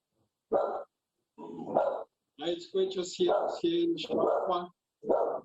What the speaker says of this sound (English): The mailman just came by, so my dog is doing his bodyguard duties.